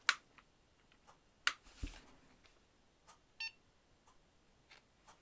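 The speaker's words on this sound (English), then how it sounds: "You notice it beeped." BetaFPV Cetus Pro FPV goggles giving short electronic beeps while auto-scanning to link with the beginner drone, a few faint scattered chirps and clicks in a quiet room.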